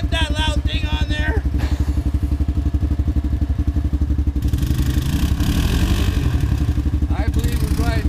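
A Honda Rancher ATV engine fitted with a loud power tip exhaust idles and throbs loudly and continuously up close, with voices talking over it.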